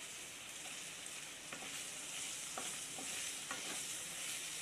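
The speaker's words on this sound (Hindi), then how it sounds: "इसे भी प्याज के साथ में भूनेंगे।" Capsicum and onion stir-frying in a hot pan on a gas flame for a white sauce chicken macaroni dish, a steady close sizzle with a few soft scrapes of stirring, no talking.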